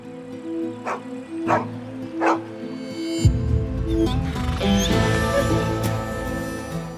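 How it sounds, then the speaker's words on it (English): A dog barks repeatedly at a donkey, three sharp barks in quick succession over a droning background, followed by a louder burst of scuffling, rumbling commotion as the animals square off. "The more he barks"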